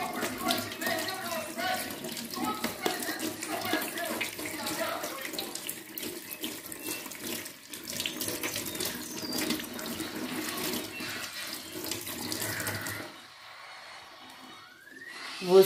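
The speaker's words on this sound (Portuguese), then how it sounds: "Aí eu vou lavar ele bem, assim meio que esfregando a mão." Tap water runs steadily into a sink while homemade cheese is washed and rubbed by hand, a continuous splashing rush that cuts off near the end.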